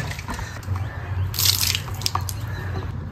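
Raw green mango is rinsed under a running tap, with water splashing and dripping steadily over the fruit into a sink, close and fairly loud throughout, with no talking.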